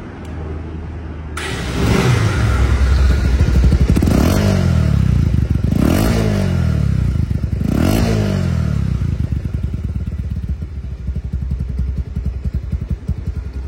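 Engine of a second-hand Bajaj Pulsar single-disc motorcycle starting up and running close by, revved sharply several times in quick bursts before settling into a steady idle.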